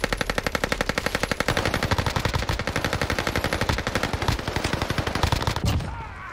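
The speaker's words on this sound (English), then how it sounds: "Oh, I'm getting shot from behind. How many fucking bullets does this kid have?" Automatic gunfire in a shooter game, a long rapid and steady burst of loud shots with a fast, even rhythm that runs for about six seconds before cutting off, with no talking over it.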